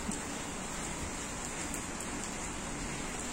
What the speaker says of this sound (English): that's our sitting area, and a ball, and a net, drenching in rain.